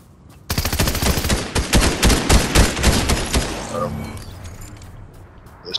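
Gunfire in the video game Fortnite: a dense, fast burst of rapid shots lasting about three seconds, loud and close, then trailing off into quieter ambience.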